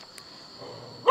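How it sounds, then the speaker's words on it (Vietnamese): A dog barks once, loud and close, at the very end after a quiet stretch with faint background hum. "Con chó điếc tai đấy nhỉ, con chó này nhỉ."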